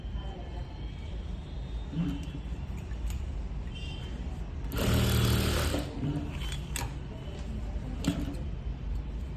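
A sewing machine stitches a children's blouse in a quiet room, humming softly in short runs and breaking into one louder, sustained burst of stitching midway, with a few clicks and light handling around it.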